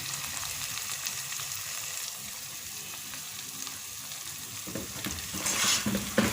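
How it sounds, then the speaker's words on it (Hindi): Spicy chicken pieces stirred with chili garlic sauce in a frying pan over low heat: a steady, close sizzle with scraping stir strokes that grow louder and busier toward the end, no talking. "मिक्स कर लेंगे और 2-3 मिनट ऐसे ही धीमी आंच के ऊपर पकाएंगे।"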